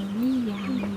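A chicken near a coop in rural Vietnam gives a single drawn-out, rising-and-falling cluck, close and fairly loud, with a faint second call trailing after.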